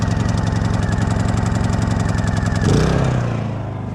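A Honda portable generator engine runs with a fast, steady putter close by, then shifts and lowers in pitch near the end as its load changes.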